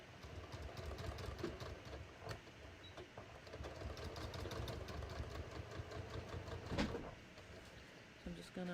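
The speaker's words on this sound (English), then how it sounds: "I want to make sure I'm sewing through all the seam allowances" A sewing machine stitches steadily through thick denim jeans seam allowances with a fast, even mechanical whir. A person talks over it throughout.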